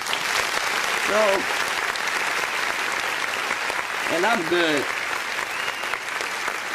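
Steady applause from an audience runs throughout, a dense even patter of clapping, while someone talks over it and briefly laughs or vocalizes.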